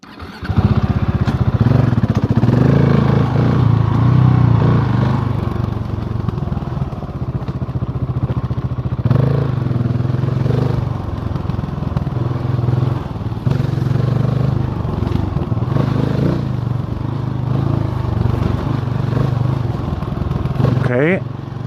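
A motorcycle with an inertial steering damper picks its way over slow, technical off-road terrain, its engine droning and blipping steadily up close with clattering bumps, under a rider's intermittent talk.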